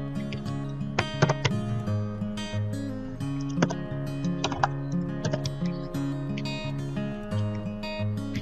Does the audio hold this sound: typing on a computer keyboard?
yes